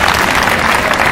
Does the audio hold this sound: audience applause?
yes